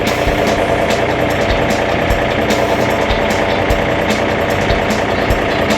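A large tractor-like digging machine at a dig park near Pigeon Forge, Tennessee, rumbles steadily as it is driven slowly, its engine loud and close with a constant low drone and occasional knocking clatter.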